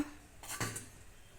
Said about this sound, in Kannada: ಈಗ ನೋಡಿ ಫ್ರೆಂಡ್ಸ್ ತಟ್ಟೆಗೆ ಹಾಕೊಳ್ಳೋಣ ಸರ್ವಿಂಗು